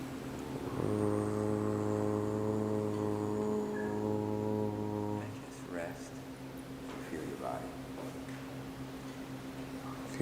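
A human voice imitates a harbor foghorn with one long, steady, low droning tone held for about four seconds, then gives way to quieter background sound.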